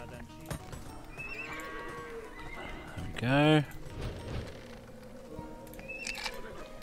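A horse in the video game Age of Empires 2 whinnies once, a loud wavering neigh in the middle, amid light background noise and faint clip-clop sounds.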